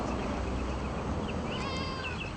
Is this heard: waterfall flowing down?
no